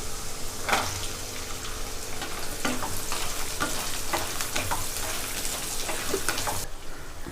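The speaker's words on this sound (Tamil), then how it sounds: "இப்போ வெங்காயம் ஓரளவுக்கு நல்லா வதங்கிடுச்சுங்க." Small shallots sauté in a pan for a Tamil medicinal curry, giving a continuous hissing fry with scraping stir strokes and scattered clicks throughout, close by, before the sizzle cuts off near the end with no talking.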